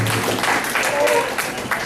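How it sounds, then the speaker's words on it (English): Audience at a tribal community meeting clapping in a steady round of applause from a crowd of hands, fairly loud with faint voices mixed in. "I put a round of applause for John LaFountain and Gerald Gray"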